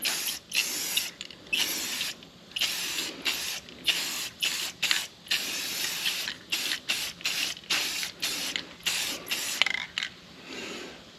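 Short repeated bursts of hissing spray paint laying a light coat on a mini truck, each pass lasting about half a second to a second with brief gaps between, close and steady.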